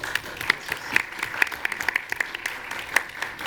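Moderate applause from an audience at a public policy youth forum, a cluster of claps with sharp individual hits standing out, steady at mid distance in a hall.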